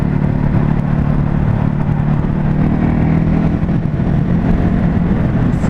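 Ducati Hypermotard 950 motorcycle engine accelerating on the road, a loud, close, rough low drone with wind rush, sustained without talk.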